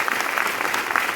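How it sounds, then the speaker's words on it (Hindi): A crowd at a leadership development program in Delhi bursts into brief, loud applause, dense clapping from many hands throughout. "एक बार जोरदार तालियां बजा लीजिए"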